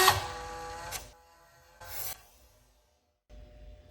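A Roomba motor overdriven on six 9-volt batteries gives a loud mechanical whir in two strong bursts with a shorter surge between, then drops out and restarts more quietly near the end.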